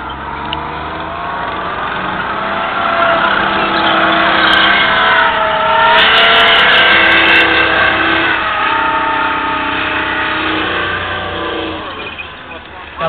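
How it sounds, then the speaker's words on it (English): A tank engine from the Iran-Iraq war era rumbles loudly nearby at a display, a deep churning roar that swells and revs with people talking over it. "You can hear that thumping great engine"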